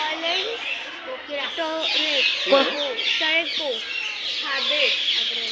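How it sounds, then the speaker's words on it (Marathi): Birds call at a zoo, clustered chirps and warbling notes repeating across the clip at moderate loudness, with a person speaking over them. "इकडं कसलं तरी बर्ड आहे वाटतं"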